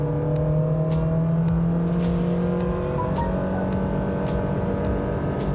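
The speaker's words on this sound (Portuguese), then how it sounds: "E aceleração plena." A 2021 Honda WR-V with a CVT transmission accelerates at full throttle, its engine holding a steady, droning high-rev note with rising tonal whine, loud and continuous from inside the cabin.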